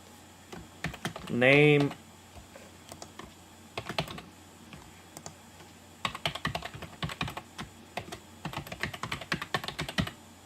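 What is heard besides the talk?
typing on a computer keyboard to enter a name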